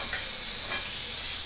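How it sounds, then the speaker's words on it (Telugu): Ponnaganti greens fry in a pan on low heat, giving a steady, bright sizzle with a soft hiss of steam close by. Faint scraping from stirring is heard beneath the sizzle. "అప్పుడప్పుడు ఇట్లా కలుపుకుంటూ ఉండాలి మాడిపోకుండా ఉండడానికి. వేగాలి, ఎర్రగా వేగాలి"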